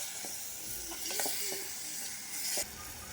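Onions and tomatoes sizzle steadily in a hot pan, with soft scraping stirs and clinks of a spoon breaking through the hiss now and then.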